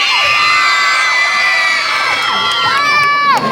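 Shrill cheering, whoops and excited shouting surge from a packed pageant audience at the Amazing Sireyna 2024 national costume show, loud and sustained, rising again toward the end.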